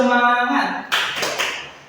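An Indonesian primary class claps out the rhythmic 'tepuk semangat' chant in a math lesson: a teacher's voice first, then a few sharp, loud group claps in quick bursts that fade away.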